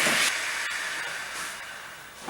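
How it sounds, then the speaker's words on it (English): A VonHaus steam station iron releases a steady, close hiss of steam at maximum setting over cotton and linen, continuous with slight swells and no talking. "You can see the steam is maximum."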